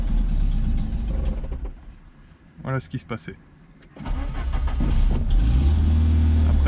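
A Peugeot 205 CTI struggling to start, the engine cranking and catching roughly in uneven bursts before settling into a rough run, close by, with someone speaking over it.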